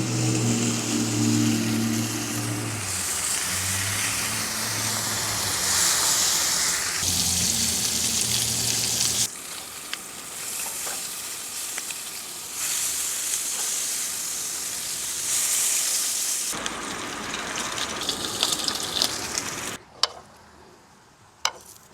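Bacon fries in a pan on a Coleman Triton camping stove with a steady, close sizzle and crackle that carries on throughout, broken by a few brief shifts and pops.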